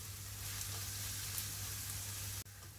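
Ginger garlic paste fries in a pan while an egg curry is being made, giving a continuous close sizzle with soft crackles that cuts off abruptly near the end.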